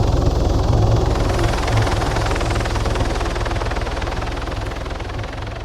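A helicopter in the ARMA 3 video game spins up and lifts off, its loud, steady rotor chop and turbine whine filling the scene continuously at close range, with no voices.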